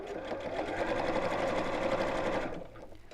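A sewing machine stitching sequins onto a purse runs steadily for about two and a half seconds, a fast, even whirring chatter of the needle, fairly close, then stops.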